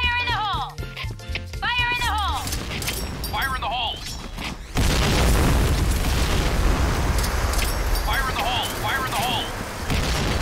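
Repeated grenade blasts in a first-person shooter match, heavy booming bursts filling the mix, with game music and chirpy effects early and a dense rumbling roar after the midpoint; a voice speaks over it.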